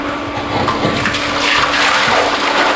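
Thick protein pancake batter pouring out of a blender jar, a soft continuous liquid gushing and glugging sound of moderate loudness with no talking.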